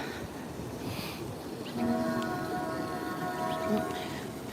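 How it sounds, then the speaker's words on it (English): A low rumbling train rolling by in the distance at night near the Southwest DC waterfront, with a long drawn-out horn tone sounding faintly over the steady background noise. "Oh, that's a train."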